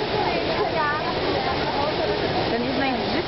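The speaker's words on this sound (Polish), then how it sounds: "Ale piękne wodospady." Krka waterfalls in Croatia rush with a steady, broadband roar of falling water throughout, with people talking over it.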